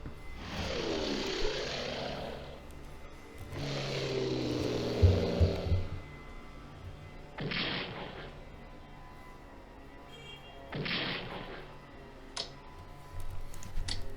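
Bombers attacking Tobruk in the video game Strategic Command: World War II: two long droning propeller-engine passes, then shorter bursts of impact noise, with a few faint clicks between them.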